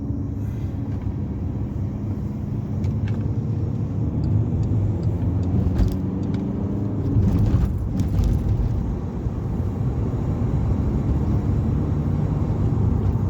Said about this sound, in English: It's a nice induction going on, but I'm not sure the camera's going to pick that up over the tyre noise.